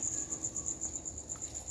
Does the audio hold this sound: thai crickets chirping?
yes